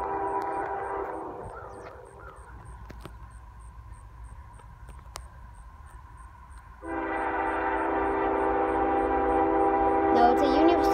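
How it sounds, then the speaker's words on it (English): A Union Pacific Dash 9 locomotive leads a mixed freight loaded with bulldozers, its loud horn sounding briefly at first, then a low engine rumble before the horn blasts again long and loud near the end. "No, it's a Union Pacific Dash 9. With a bunch of bulldozers."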